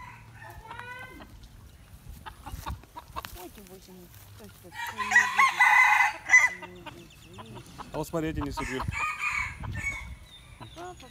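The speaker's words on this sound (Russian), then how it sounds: "Ой, петух, петух" Hens cluck and a rooster crows loudly up close in Thailand, with people chatting over the farmyard sounds.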